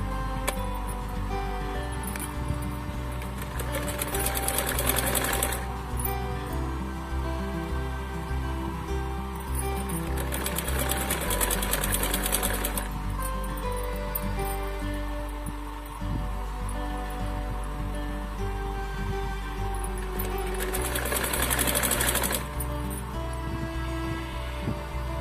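A sewing machine stitches a folded strip on a net blouse, a steady close mechanical rattle with a low rhythmic hum that surges in bursts of faster stitching every few seconds, no voices.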